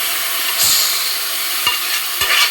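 Cooked liver tipped into a frying pan and stirred, giving a soft sizzle with three quick scraping stirs against the pan, close and fairly loud.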